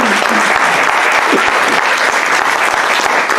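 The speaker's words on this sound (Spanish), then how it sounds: "Yo les pido que recibamos a nuestro director, el doctor Félix Octavio Martínez Alcalá, con un fuerte aplauso" Loud, sustained clapping from a seated audience at a medical ethics talk welcomes a speaker, dense and even throughout the short span with no voices over it.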